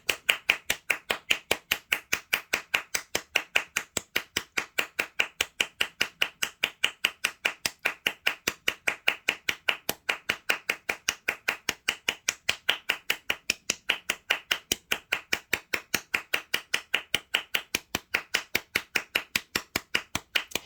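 Hands clap steadily during an energy work session, crisp, close claps repeating at an even, brisk pace of about three per second for the whole stretch, with no talking.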